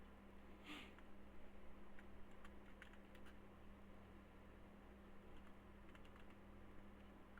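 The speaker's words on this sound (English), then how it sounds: "I'm just typing out the chart for you." Quiet clicking of keys being typed on a computer keyboard, scattered taps in short irregular runs over a steady low hum of background fan noise.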